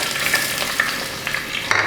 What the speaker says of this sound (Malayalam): ഇനി ഞാൻ ഇതിനകത്തോട്ട് ഇഞ്ചിയും വെളുത്തുള്ളിയും അരിഞ്ഞു വെച്ചത് ചേർത്ത് കൊടുക്കുകയാണ്.